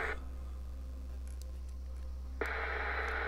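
A faulty HAM International UK 120 channel AM/FM CB radio, its switches just cleaned, hisses steady static, with small clicks and a louder burst of noise near the end.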